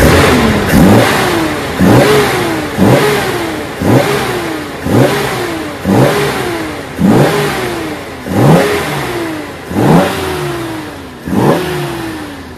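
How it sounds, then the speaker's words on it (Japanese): A carbureted L-type engine in a Nissan Skyline Kenmeri is free-revved while parked, giving about nine loud, evenly spaced blips, each rising sharply and then falling back toward idle. "じゃあちょっと空ぶかしの方お願いしますよ。"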